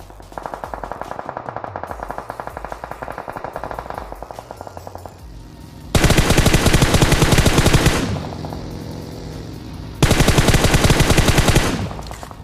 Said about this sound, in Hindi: हर तरफ फायरिंग हो रही थी काफ़ी सारी